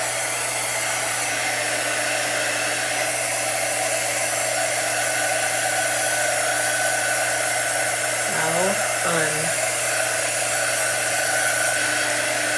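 A dryer blows steadily and loudly across a chalk artwork, a continuous airy roar with a steady hum that holds throughout, with a brief squeaky whine near the end.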